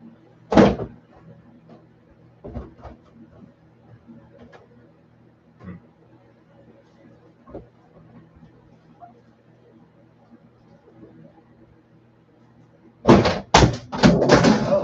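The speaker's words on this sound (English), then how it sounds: "Oh, that doesn't sound good. Lost the door." A loosened kitchen cabinet door comes off its hinges and slams, with a sharp bang at the start, scattered knocks and clatters in near-quiet, then a cluster of loud rapid bangs at the end, close by.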